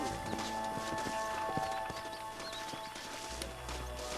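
Horses galloping in the Red Dead Redemption 2 video game, a dense, continuous clip-clop of several sets of hooves under a busy game soundscape, with no talk.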